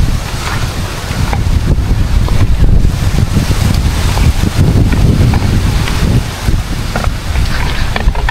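Strong outdoor wind buffets the microphone in a continuous loud roar with deep low rumble, gusting slightly stronger and weaker throughout, with no voices.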